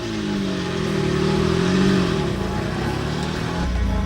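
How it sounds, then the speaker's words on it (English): A classic Jaguar car pulls away on the grounds of Beaulieu with a loud, close, throaty engine note that rises as it revs and then settles, no voices over it. "Well, it's off for a joyride around the grounds of Bewley, and I must say it's incredibly noisy."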